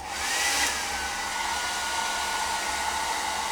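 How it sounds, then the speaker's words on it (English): Small hair dryer blowing continuously nearby to dry a layer of hairspray on a model, a steady airy whoosh with a slight surge near the start and no talk over it. "And then I always have a little hair dryer."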